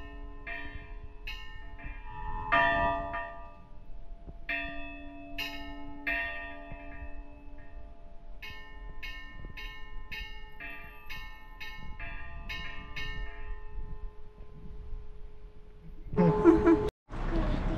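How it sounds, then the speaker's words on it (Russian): Church bells ring at Easter from inside the bell tower, close and loud, with several bells struck in uneven clusters and long ringing tails, plus brief rustling and handling noise near the end. "Ну что, мы залезли, колокола позвонили"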